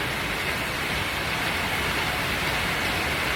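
Steady rain pours onto a partly uncovered roof beside an outdoor kitchen and garage, a dense, even hiss that holds without a break and no one speaking.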